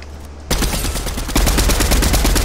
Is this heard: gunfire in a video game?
yes